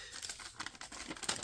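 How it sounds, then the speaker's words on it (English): A freshly sharpened folding knife slicing through the pages of a magazine gives a series of crisp paper crinkles and short tearing rasps, close and fairly quiet, with no voices. "Cut that magazine just fine with the Beefonder."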